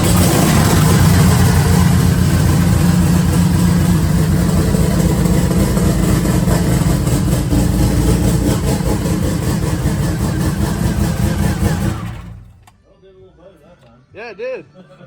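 A truck's Whipple-supercharged LT V8 idling close by, a loud, deep, steady rumble that suddenly cuts off near the end, leaving quiet space with a couple of brief voice sounds.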